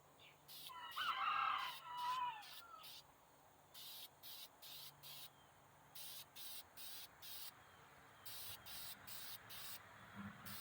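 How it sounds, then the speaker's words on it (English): A rooster crows once in the distance, faint, while crickets chirp in regular pulsing bursts throughout a quiet outdoor background. "Forgive me for the rooster sounds."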